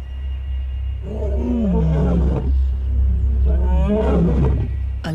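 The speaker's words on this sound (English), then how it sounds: "The roar echoing along the river means that big male lions are on the prowl." Big male lions roar along a river, a deep, loud, close series of rumbling roars in two long bouts over a constant low background drone.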